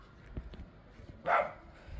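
A single dog barks once on a farm in Jamaica, a short, fairly distant bark over a quiet outdoor background with faint low thumps.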